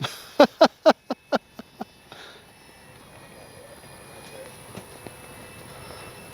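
A radio-controlled FMS P-51 Miss America model warbird passes overhead, marked by a run of sharp, evenly spaced loud pulses early on that fade into a faint, steady background drone.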